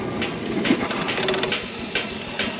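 Steady broadband hiss of steam rushing through the injector of a traction engine at a steam-up, continuous and fairly loud, with faint mechanical rattles underneath and no talking.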